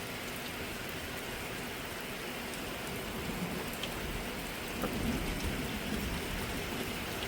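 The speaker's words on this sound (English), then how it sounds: "I've only heard one clap of thunder so far." Steady rain falls on a trail during a wet day, a dense, even patter throughout, with a faint low rumble swelling slightly near the end.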